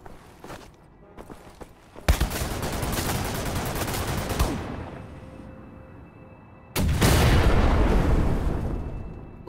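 Gunfire bursts in the Wolfenstein shooter game, loud dense volleys starting around two seconds, easing off, then a second heavy burst near the end, with footstep-like clicks before the shooting.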